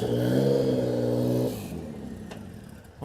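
Matty Hansen's rally car engine revs loudly and steadily at a street display for an off-road desert race, then drops off sharply to a lower idle with faint background noise.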